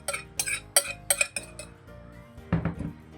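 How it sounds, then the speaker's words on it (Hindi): Clinks and scrapes of a utensil against a milkshake blender jug as a kilo of yogurt is added, several sharp metallic taps in a row followed by a softer dull thud, close and without talk. "1 किलो ले लिया दही, इसको मैं शामिल कर रहा हूँ ये मिल्क शेक वाले जग के अंदर"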